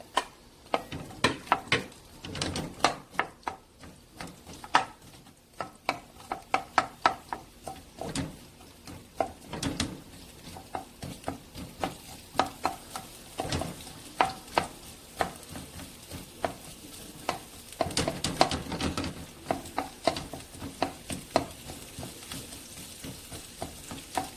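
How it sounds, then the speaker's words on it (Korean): Onions stir-fried in an oiled pan, with a soft sizzle under repeated scraping and clattering stirring strokes in an irregular rhythm, fairly close and moderately quiet. "식용유 둘른 팬에 양파를 넣고 볶아줄게요."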